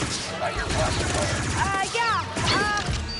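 Rapid gunfire bursts from a blaster-style weapon in the Star Wars Outlaws video game during a firefight at a hidden Imperial base, with repeated shots and whooshing effects under ongoing game audio and a person talking.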